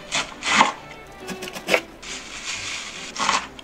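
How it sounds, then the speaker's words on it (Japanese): A knife coarsely mincing cabbage on a cutting board in a home kitchen, heard as close, irregular rubbing and chopping strokes in several bursts, with no talking. "まずキャベツをね、粗めのみじん切りにします。"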